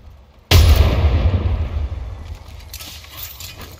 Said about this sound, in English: Grenade, watch out.